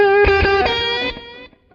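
A distorted electric guitar plays a bend through a delay pedal. The sustained note rings loud and close, then repeats fade out as echoes trail away.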